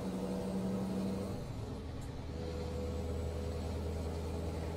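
A truck engine idling and then droning steadily in Euro Truck Simulator 2: a low, quiet rumble with a hum that shifts pitch early on, then settles into a constant deep drone.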